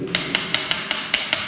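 A hollow-tile testing tool is tapped across a well-bedded floor tile in a new house, giving seven solid, short knocks at a steady pace over a continuous ringing hum, fairly loud and near.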